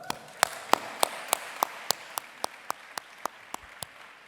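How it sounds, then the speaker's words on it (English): Audience applause thins out to a few scattered, distinct claps, each one sharp and spaced about a third of a second apart, with no talking over them. "give a very big round of applause to Lucia Pietrojusti for the amazing achieve"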